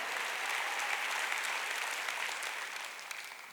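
A church congregation at a Wednesday worship service applauding together, a sustained wash of clapping at moderate distance that gradually tapers off near the end.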